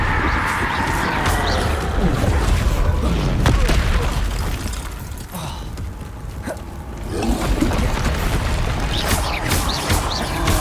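Depulso spell cast in the Hogwarts Legacy video game, a booming, crashing blast with splashing, watery debris that swells, fades briefly in the middle, then surges again.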